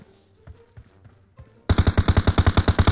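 In PUBG Mobile, quiet scattered sounds give way to a loud, steady burst of automatic fire, about a dozen evenly spaced rapid shots close by.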